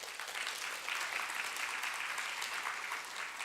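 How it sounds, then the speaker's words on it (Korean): A church congregation claps during a Sunday worship service, a dense, even patter of applause sustained at moderate loudness from start to finish, with no speech over it. "박수 한번 치셔야 됩니다"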